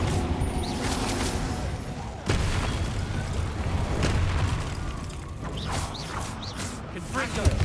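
The Incendio fire spell in the Hogwarts Legacy video game bursts with a sudden booming impact, then crackling, rumbling combat effects and mechanical clanks carry on amid scattered game noises.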